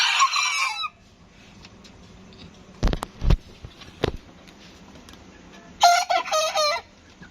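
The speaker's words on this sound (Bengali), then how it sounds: "এই যে আম্মু, এটা মোরগ।" A rooster kept on a balcony crows loudly at the start and again near the end, with scattered clucks and faint clatter in between.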